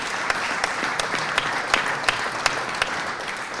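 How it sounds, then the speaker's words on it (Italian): An audience claps steadily through the whole stretch at a gathering for an art exhibition opening on Venetian spatialism in Sacile, with a few louder individual claps popping out above the dense, even applause. "vi chiedo un applauso particolare per Giuseppe"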